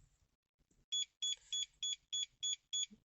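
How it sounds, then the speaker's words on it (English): Seven short, evenly spaced electronic bleeps from a Starline i96 immobiliser fitted to a Mazda CX5 sound in quick succession after a faint click, crisp and moderately loud in an otherwise quiet car. "And you've got 7 bleeps."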